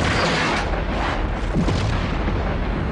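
A deep, booming explosion stands for the Big Bang, a loud sustained rumble with broadband roar that swells and churns throughout, with no talking over it.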